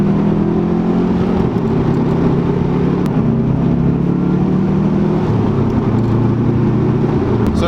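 Turbocharged car pulling hard through second gear at peak boost, a loud, steady engine drone with rising pitch and a gear change near three seconds, continuous and close throughout.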